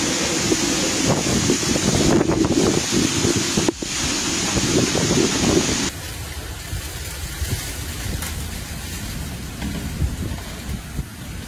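Strong storm winds from Tropical Storm Idalia on Florida's Gulf Coast, a steady loud roar of gusts buffeting the microphone with a rushing surf-like wash, easing slightly halfway through but continuing throughout.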